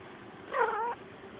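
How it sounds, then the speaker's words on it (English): A gray house cat meows once outdoors on a hot 100-degree day, a single clear, drawn-out meow of about half a second standing alone against quiet background. "You're not an outside cat, Gray"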